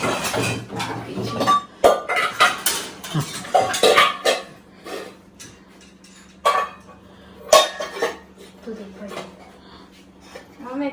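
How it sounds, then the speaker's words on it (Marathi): Pots, pans, a griddle and small plates are handed over and stacked, giving repeated sharp metallic clanks and clinks in irregular bursts, close by, while people talk throughout. "आपले लवकर लवकर भांडी दे नीट व्यवस्थित म्हणजे भांडी इथं"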